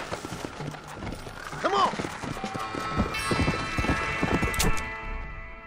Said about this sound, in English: es rápido este caballo